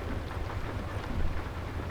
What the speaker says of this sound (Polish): pada niemiłosiernie